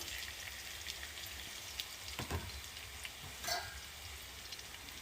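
Potatoes frying in a pan give a faint, steady sizzle with soft crackles and a couple of brief stirring or scraping touches, no voices.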